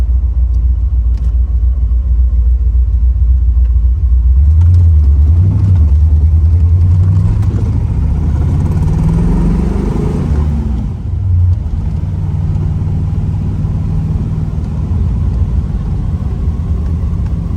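The V8 of a restored 1972 Chevrolet Corvette with a four-speed, roller motor, aluminum heads and aluminum intake, rumbles deep and loud while driving, swelling as it accelerates midway and then settling back to a steady growl.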